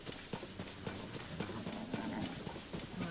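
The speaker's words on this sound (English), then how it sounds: "Oh, it's a horse." Faint horse hooves clop in a steady running rhythm through the video game Zelda Tears of the Kingdom, set against a low, noisy game background with no talking.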